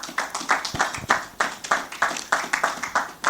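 Audience clapping at a business wealth summit, a small group applauding in quick, uneven close claps that keep a fairly steady rhythm throughout.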